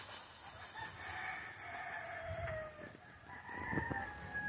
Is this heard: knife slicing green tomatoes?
no